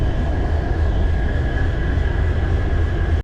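Steady, loud rumble of a train arriving at a station in Jaisalmer, Rajasthan, India, with a faint high whine running through it, holding constant before cutting off abruptly at the end. No voices.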